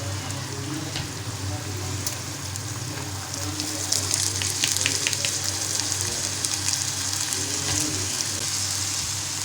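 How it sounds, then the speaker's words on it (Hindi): Rice is tipped into bubbling sugar syrup for a sweet mutanjan rice dish and gently mixed, giving a continuous close sizzle with light scraping and stirring that grows a little busier midway. "ये हम जो चाशनी बना रहे थे उसमें हम अपने चावल डाल देंगे हल्के हाथ से"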